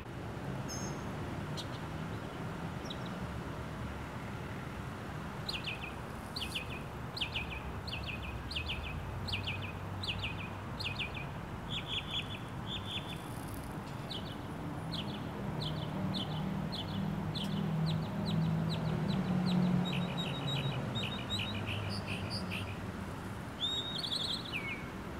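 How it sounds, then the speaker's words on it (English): Small bird chirping outdoors in repeated quick bursts of sharp high notes, moderately near, over a soft low ambient rumble, with no talking. "It's a loud little bird."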